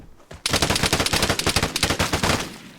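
Rapid enemy gunfire in the video game Vigor, a steady automatic burst of loud sharp shots with no pauses, close and sustained for nearly the whole clip.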